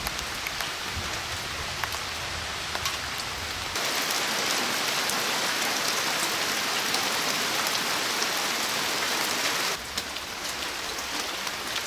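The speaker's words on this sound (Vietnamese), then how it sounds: "giờ lại mưa." Heavy rain pours down in a dense, steady hiss on surfaces outdoors, swelling louder through the middle stretch before easing slightly, with no voices.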